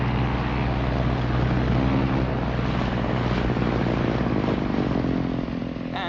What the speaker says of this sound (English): From small, fast outboard runabouts like this one to large twin-hulled motor cruisers.